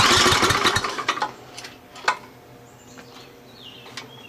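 A Troy-Bilt Horse tiller engine fires up with a burst of loud, rough running that quickly settles into a quieter, steady idle, with a few faint knocks and sputters.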